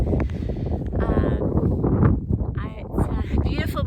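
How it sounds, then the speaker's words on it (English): Strong morning wind on a desert hiking trail buffets the microphone in gusty, uneven rushes, with a person speaking over it throughout. "It's probably mid-50s, so it's not cold, just windy."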